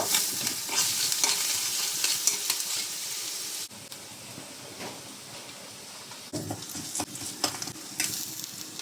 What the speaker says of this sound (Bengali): এই তো আমি এদিকে ফাঙ্গাস মাছের জন্য পেঁয়াজ দিয়ে দিলাম